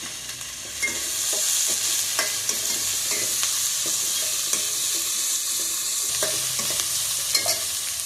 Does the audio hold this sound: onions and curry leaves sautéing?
yes